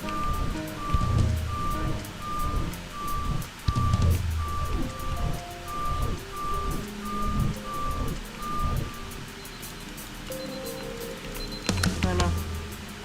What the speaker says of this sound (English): Please listen carefully for the sound of an alarm clock, which will automatically play if you are approaching a destabilizing dream weight.